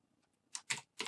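Three quick, crisp keystrokes on a computer keyboard, close and clear after a faint lead-in of lighter taps, with no voices.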